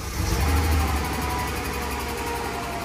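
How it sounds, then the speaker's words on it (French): A Mercedes ML engine that has not run for a long time runs steadily close by with a rough, slightly uneven hum, louder at first before settling into a constant drone. "Ce petit bruit tout à fait normal d'un moteur qui n'a pas tourné depuis longtemps"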